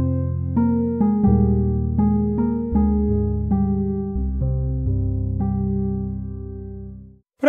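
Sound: electric piano preset from a free virtual piano library

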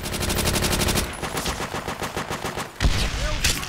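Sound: submachine gun fire in World at War video game

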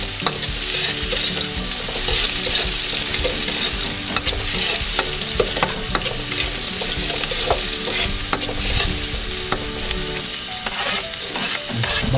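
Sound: onion frying in cooking oil, being stirred

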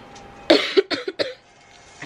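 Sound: cough

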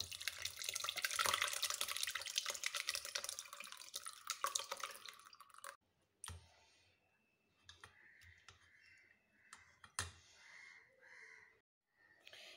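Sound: grape juice being poured through a strainer

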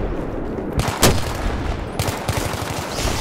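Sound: gunfire shooting at a tank in video game Battlefield 3

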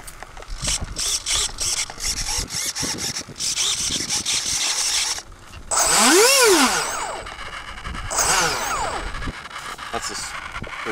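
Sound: faulty track servos grinding

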